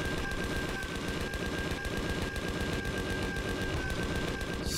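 Rapid automatic gunfire in the sci-fi survival game Empyrion Galactic Survival rattles on continuously and loudly, a dense stream of shots with no pauses.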